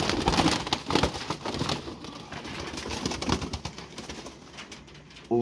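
Pigeons coo softly amid rustling and background clatter, low, throaty calls repeating close by.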